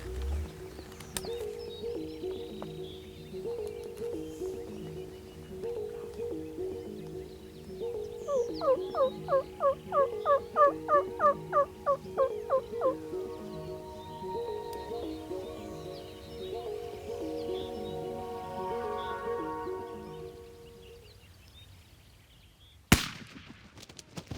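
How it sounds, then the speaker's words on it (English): A wild turkey gobbler gobbles in the Texas woods, one loud rolling burst of rapid gobbles in the middle against steady background birdsong and insects, ending with a sharp bang. "The first gobbler that shows up might be the best one they see all week."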